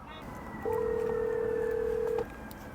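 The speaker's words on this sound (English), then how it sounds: "if you want to make a phone call, you can also do so" A phone call being dialed through a Lexus RX's Bluetooth system sounds as a single steady electronic tone lasting about a second and a half, clear and close over faint background noise.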